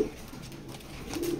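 Pigeons coo softly from a breeder's loft, low rolling calls rising near the start and swelling again toward the end over quiet background noise.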